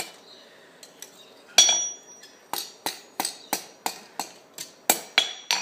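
Hot steel is hammered over the edge of an anvil to form a scroll on a cheese knife: a few light taps, then about ten loud, evenly spaced ringing blows.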